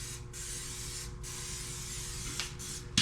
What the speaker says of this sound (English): I can spray anti-spray or anti-spatter all over this stuff and protect it.